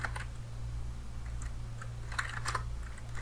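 Computer keyboard typing a short command on a Kali Linux machine: a quick run of light, close key clicks in small clusters over a steady low hum, with no talking.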